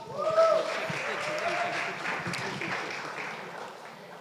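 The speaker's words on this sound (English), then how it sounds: "Give her another applause." An audience at a community event gives moderate applause that peaks early and then fades gradually, with some voices mixed in.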